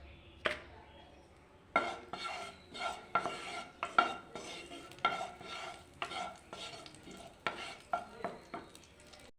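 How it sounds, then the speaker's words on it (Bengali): Whole cumin and dried chillies fry in ghee as a ladle repeatedly stirs and scrapes against the pan, giving rhythmic metallic clinks over a soft sizzle, quiet and close. "গোটা জিরে আর শুকনো লঙ্কা দিয়ে দিচ্ছি।"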